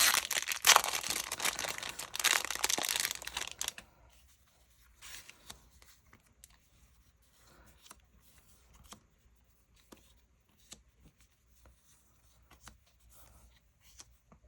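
Plastic wrapping on Christmas sticker packs crinkles loudly and close up for a few seconds as it is torn open, then quieter scattered rustles and small crackles follow.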